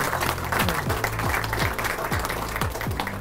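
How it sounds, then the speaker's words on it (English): Steady applause from an audience at an award ceremony in the House of Lords, many hands clapping continuously at an even level. "can we have a round of applause for the gentleman"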